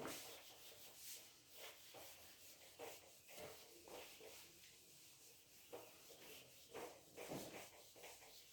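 Soft, faint rubbing strokes of writing being erased from a board, repeated in an irregular rhythm of short swipes with quiet room noise between them.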